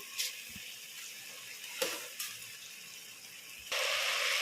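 Two cups of soaked rice are washed in water: close splashing and sloshing with a few sharp knocks, ending in a steady rush of running water.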